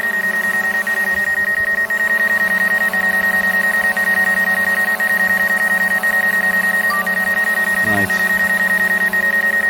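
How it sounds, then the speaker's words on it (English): A DJI Mavic Air 2 drone's warning beeps pulse rapidly and continuously over a constant tonal hum, loud and close, with a brief spoken word partway through. "Move away from that because it's beeping."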